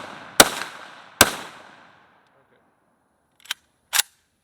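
A PSAK GF3 12.5-inch AK pistol fires four sharp shots outdoors. They come as two pairs, each shot followed by a short echoing tail, with a silent pause between the pairs.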